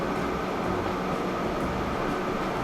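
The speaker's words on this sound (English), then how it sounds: "First electric train arrived." An electric train pulls into a station in the video game Transport Fever. It makes a steady, dense rumble and hum that holds at an even, fairly loud level throughout, with no voices.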